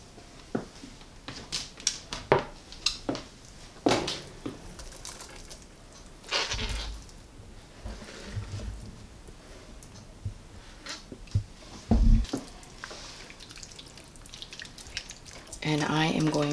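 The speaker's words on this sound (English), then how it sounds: "Now we are going to add our turkey." Pieces of turkey go into a simmering sauce in a pan, making soft, scattered splats and wet drips, a few louder plops among quiet bubbling, with a person talking in between.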